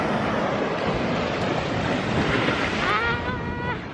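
Ocean waves wash steadily onto a black sand beach in Iceland, a loud continuous rushing surf with wind noise on the microphone.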